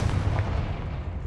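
A short, deep booming blast from the Confringo explosive spell in Hogwarts Legacy, a heavy low rumble that lingers and slowly fades.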